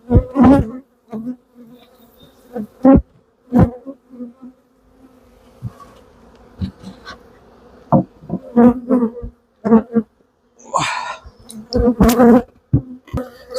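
Honeybees buzz loudly around an open hive during a spring brood box swap, a dense insect drone with sharp bursts as bees fly close past the microphone, no voices heard.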